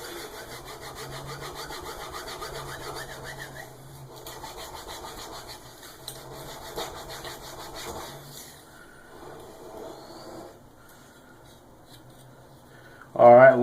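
A knife blade stroked freehand across a whetstone gives repeated gritty scraping passes, steady and close, for most of the stretch. The strokes thin out near the end, and a short louder knock closes it.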